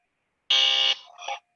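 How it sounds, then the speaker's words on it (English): Electronic game-show buzzer pressed once in a virtual Diwali antakshari song game, a loud harsh tone lasting under half a second followed by a shorter, weaker wavering tail. "हाँ but वो बजा दिया buzzer"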